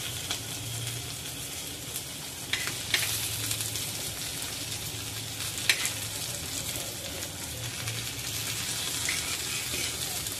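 Pieces of jitada fish fry in a pan with a steady, quiet sizzle, broken by a few sharp clinks and scrapes as the pieces are flipped.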